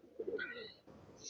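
A Kaldom racing pigeon gives a short, soft coo up close, a single rolling call lasting about a second with a faint rustle after it.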